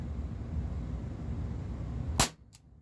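A single sharp pop from a Beretta M84 FS 4.5mm CO2 air pistol cracks out near the end after quiet background hum, followed by a brief faint click.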